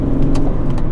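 The 400 hp tuned diesel engine of a BMW 335d drift car drones loudly and steadily from inside the cabin during a gear shift in sport mode.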